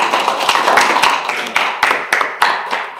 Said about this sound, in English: I think we should give ourselves a big hand of applause